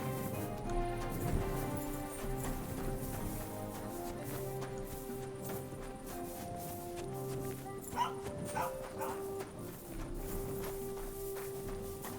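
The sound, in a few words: dog barking, from a video game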